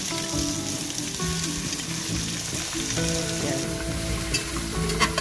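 Shrimp tossed into a hot pot with onion for shrimp sinigang, giving a loud, continuous sizzle and crackle with stirring scrapes, close and unbroken by speech.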